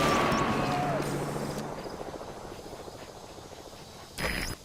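A support helicopter arrives at a landing zone in Metal Gear Solid V: The Phantom Pain, its loud rotor thrum fading steadily over several seconds before a short burst of game interface sound near the end.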